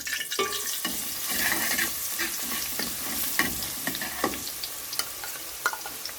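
Garlic sizzles steadily in hot ghee with whole cumin in a pan for a Lahori chicken dish, a close, continuous crackle with faint stirring scrapes and no talk.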